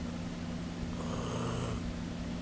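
Snoring in a read-aloud comic story, a single steady, rasping, drawn-out breath with a low droning hum running underneath.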